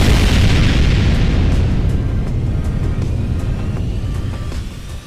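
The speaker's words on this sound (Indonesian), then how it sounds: "ledakan berbentuk awan jamur kembali terlihat dengan skala yang jauh lebih besar" A huge mushroom-cloud explosion in an animated martial arts story, a heavy rumbling boom that starts loud and rolls on, slowly fading over several seconds with crackling debris.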